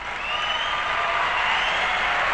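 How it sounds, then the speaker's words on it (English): An audience applauds steadily from start to finish, a dense, even wash of many hands clapping at moderate loudness, with no voices rising above it. "Applause from the audience."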